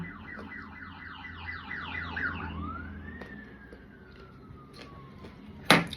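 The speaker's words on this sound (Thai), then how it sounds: "คือมีเสียงไซเรน" A wailing electronic siren sweeps up and down repeatedly, then shifts to a long steady tone fading as it moves away, ending with a brief loud burst.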